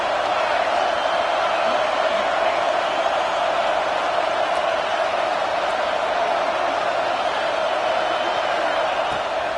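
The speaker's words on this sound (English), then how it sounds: "this crowd is making it miserable on this offense" Stadium crowd roaring continuously in a college football video game, Tennessee versus Texas, a dense, steady wash of noise on a fourth down with no pauses or distinct voices standing out.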